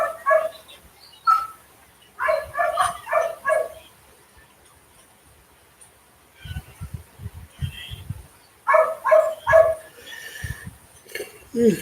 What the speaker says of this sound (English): I was wondering when the dogs was going to get fired up because people keep running in and out.